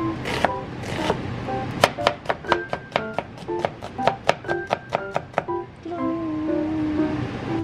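A knife chops through red onion on a cutting board in a steady run of about twenty sharp, close thuds, with brief handling noise at the start and end.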